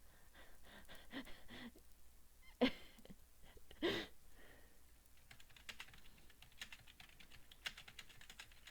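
Fingers type on a computer keyboard in quick, quiet clusters of clicks, with a couple of louder breaths or gasps between the bursts of keystrokes.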